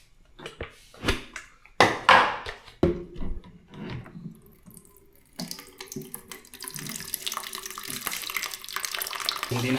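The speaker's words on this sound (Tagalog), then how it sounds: "Kumukuha kasi tayo ng tubig eh." Water runs from a tap into a container during a power outage, first broken splashes and gurgles mixed with a speaking voice, then a steady, loud, hissing flow that keeps going.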